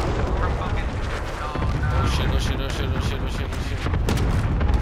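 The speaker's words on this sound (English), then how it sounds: "Designating target for airstrike." Cluster airstrike explosions in a first-person shooter video game, a loud, continuous rumble of blasts and booms rolling together without a break, with a player's voice exclaiming over them.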